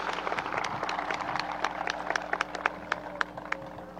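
An audience applauds musicians at a school graduation ceremony. The clapping is scattered and fairly steady, with sharper individual claps standing out over a low hum in the room.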